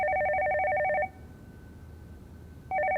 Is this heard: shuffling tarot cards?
no